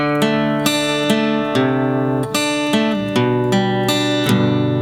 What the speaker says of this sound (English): picking those chord shapes apart, it's going to sound like this at a real slow tempo